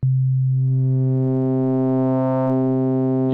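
A steady, buzzy synthesizer tone with audio-rate pitch modulation holds a low pitch, growing richer and brighter in timbre as it sustains, loud and unbroken.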